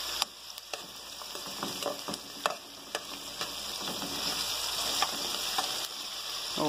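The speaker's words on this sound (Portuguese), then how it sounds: "Ó, já refoguei aqui." Mortadella filling sautéing in a pan, a steady close sizzle and frying hiss with occasional sharp pops and stirring scrapes, continuous throughout.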